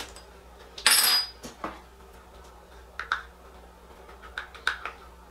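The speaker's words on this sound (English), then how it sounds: "Now I'm gonna go ahead and stop there and then mix." Hair colorant of liquid and cream being stirred in a mixing bowl, giving a few close, sharp clinks and scrapes, one louder burst early then several light taps spaced apart, with no talking.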